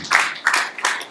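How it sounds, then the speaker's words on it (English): Forum audience clapping comes in short bursts of applause, moderately loud and close, in a hall at a stakeholders' event. "Another round of applause."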